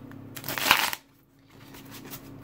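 A deck of cards is shuffled up close in one loud riffling burst lasting about half a second, followed by quieter handling and soft shuffling noises.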